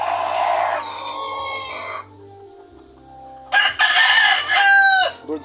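A five-month-old gamefowl brood stag crows loud and close, one long crow and then a second that breaks off. A low steady hum runs underneath.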